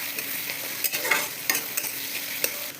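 Spices, including turmeric, chilli, cumin and coriander powder, fry softly in a pan over a low flame while being stirred, a faint steady sizzle with light scraping clicks of the spoon.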